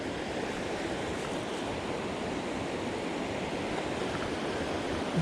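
A mountain river on Mount Hood flows past as a constant broadband rush of water, steady and fairly close, with no voices over it.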